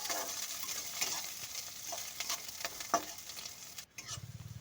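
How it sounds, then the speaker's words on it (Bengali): Oil sizzles steadily as chopped onions and green chillies fry in a pan until reddish, with occasional stirring scrapes and clinks. "পেঁয়াজ এবং লঙ্কাটাকে একটু লাল করে ভেজে নিচ্ছে"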